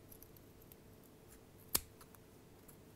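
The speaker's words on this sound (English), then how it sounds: "I'm just going to hold the pair of scissors to the side of the ceramic and cut the wick off" A single sharp snip of scissors cutting a vape atomiser wick flush against its ceramic, one brief crisp click amid near silence.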